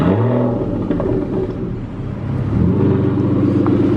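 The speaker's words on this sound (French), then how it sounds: "On va avoir droit à la mélodie du V12." Aston Martin Vanquish V12 engine passing loud and close in Monaco, a steady droning roar with rising and falling pitch, no voices over it.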